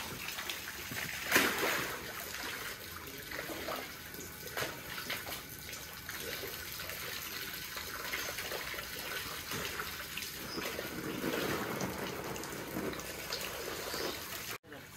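Water pouring and splashing continuously as a home swimming pool fills, a steady broadband wash with occasional louder splashes, no clear speech.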